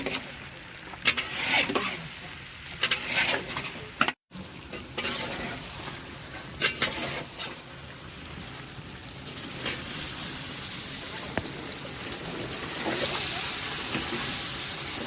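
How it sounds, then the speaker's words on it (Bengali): Hot water poured into mutton curry cooking in a pot for a Bengali-style recipe, a steady splashing sizzle with stirring over the whole stretch, close and fairly loud. "আমরা পরিমাণ মতো গরম জল দিয়ে দিচ্ছি"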